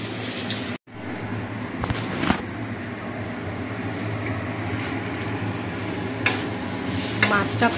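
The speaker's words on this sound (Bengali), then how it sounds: "তো মশলাটা কষে নিচ্ছি আলু দিয়ে।" Spice paste frying with potatoes for a cauliflower and potato curry, stirred in a pan: a steady loud sizzle close by, with scraping stirs and a brief dropout near the start.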